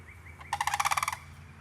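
A flock of turkeys gobbles in one rapid burst of about a dozen quick warbling pulses, loud and fairly close, with no other sounds around it.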